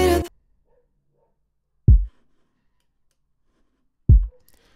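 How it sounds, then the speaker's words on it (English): A hip hop style kick drum from a remix sounds twice, each a deep, isolated thump with a short decay, after a brief burst of fuller music at the start. "So it's kind of like this hip hop sounding kick."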